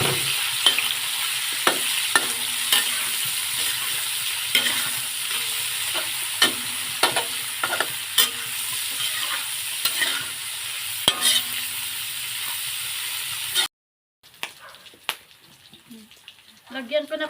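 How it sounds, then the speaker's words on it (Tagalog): Meat browning in a pan with garlic, onion and ginger, sizzling steadily up close while a utensil scrapes and taps in a regular rhythm, then a sudden drop to near silence followed by a few soft knocks. "Pag-brownin ko lang po ito. Bawang, sibuyas at luya. Ayan, ilagay ko na po yung karne."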